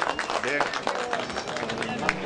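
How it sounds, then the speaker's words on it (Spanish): A crowd at an event in Santa Cruz de Flores claps in applause, a busy patter of many hands mixed with voices and chatter throughout. "Fuerte el aplauso, por favor."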